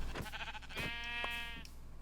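Minecraft sheep bleat once in a clear, wavering cry that rises out of a soft background hum in the video game, heard alone without any talking.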